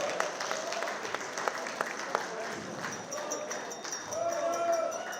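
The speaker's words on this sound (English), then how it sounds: "give me a round of applause." Applause from a dinner audience at a community unity dinner, moderate and a little distant, with scattered claps and crowd murmur and voices mixed in throughout.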